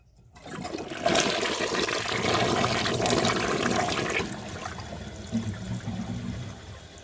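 A 1998 Western Pottery Clinton toilet flushes a washcloth and a grocery bag: a loud, close rush of swirling water lasts several seconds, then eases into a lower gurgling refill trickle, with no talking.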